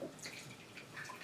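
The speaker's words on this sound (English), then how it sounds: "we're going to go ahead and we're going to pour that through here" Liquid is poured through an Omega NC800 or MMV700 slow juicer, a faint, close splashing and trickling that runs briefly with no voices.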